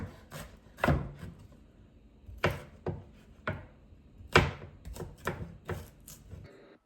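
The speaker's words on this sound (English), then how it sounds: "while I'm chopping up my onion and my sweet peppers, or bell peppers as some people call them, and my garlic" Irregular knife strokes chopping onion, bell peppers and garlic on a cutting board, a dozen or so sharp chops in uneven bursts, close and fairly quiet with no talking.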